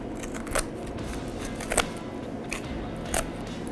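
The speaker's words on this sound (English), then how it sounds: "we're gonna go on either side of the backbone here and just cut" Shears cut along either side of the backbone of a Thanksgiving turkey being prepared for spatchcocking, giving about four sharp, crunchy snips spaced out over a low background hiss.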